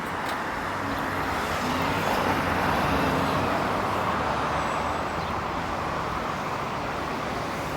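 Street traffic on Yonge Street in Toronto, just north of Finch, heard from a bicycle as a steady wash of roadway noise with passing vehicles blending into a continuous rumble.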